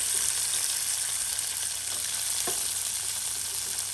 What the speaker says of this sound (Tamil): எண்ணெய் கொதிச்சிட்டு பிளாக்கொட்டையை போடுவோம்